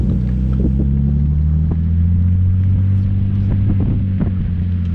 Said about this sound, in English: we're gonna go do some donuts